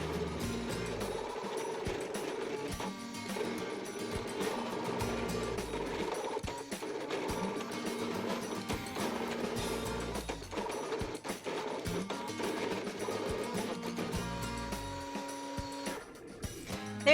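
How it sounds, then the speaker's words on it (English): Brother Scan-n-Cut cutting machine drawing with a color pen, giving a steady mechanical whir with rhythmic stepping and pen-carriage movements running continuously at moderate level. "I'm gonna press start and the machine is gonna start drawing for me."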